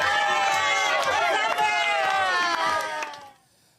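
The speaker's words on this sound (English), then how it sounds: "students and staff held a clap out for graduating grade 6s" Students and staff at Ogden Junior Public School clap and cheer through the halls for graduating grade 6s, a loud, dense crowd roar with shouting children and steady clapping that fades out near the end.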